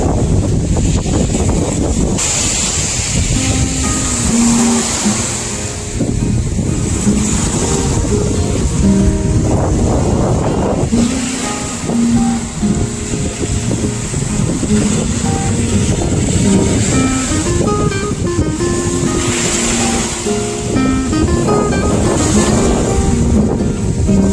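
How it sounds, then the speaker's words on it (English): Strong wind buffets the microphone continuously, with waves washing along the shore underneath, loud and rough for the whole stretch. "It's pretty windy down at the water"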